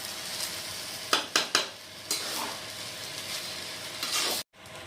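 Chopped onions and whole green chillies frying in a pan for white pulao, a steady soft sizzle broken by a few sharp clinks of a spoon against the pan near the middle, then a brief silence before the sizzle returns.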